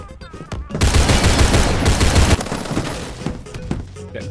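Rapid bursts of HCAR open-bolt rifle fire in the video game Phantom Forces, loud and close, a dense volley of shots for about two seconds that then thins out into scattered softer shots.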